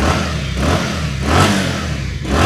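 A 2018-model motorcycle with a fresh engine is revved, a loud, continuous close-up engine roar that swells in a few surges without a break.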